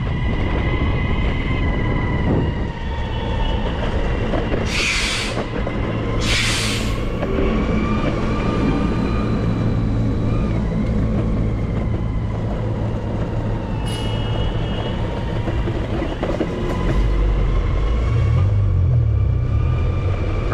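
A car cruises along 24th Street in San Francisco's Mission District, with a steady, close rumble of road and engine noise throughout and a heavier low surge near the end.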